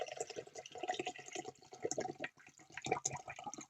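Hydrochloric acid and hydrogen peroxide being poured into a glass beaker for gold recovery from pins, a quiet trickling and splashing of liquid with small gurgles, faint and close.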